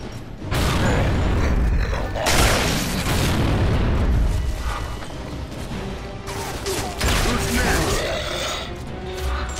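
A grenade explodes in Gears of War 2 with heavy booms and rumbling debris, rolling through several loud surges over about ten seconds amid mechanical clanks and creaks.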